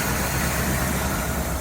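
Old car restarted after sitting unused since 2007, with its last oil change back then, idling on its own in a steady, loud, even rumble close by with no talk.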